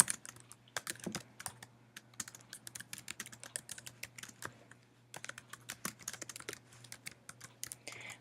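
Typing on a computer keyboard during an English writing lesson: rapid, irregular clicking keystrokes in bursts, fairly close and moderately quiet, with a brief pause midway and no talking.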